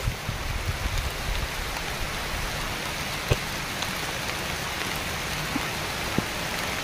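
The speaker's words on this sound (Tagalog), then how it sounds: "Umulan na mga kabugoy." Rain falls steadily outdoors, a continuous soft hiss of drops with occasional sharper individual drips standing out, evenly spread and no one speaking.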